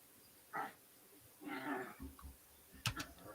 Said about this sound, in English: I hear doggies.